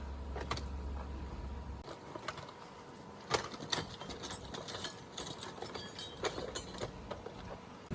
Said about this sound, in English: Juan is using the Yellow Jacket torque wrench, holding back with another crescent wrench to the right pounds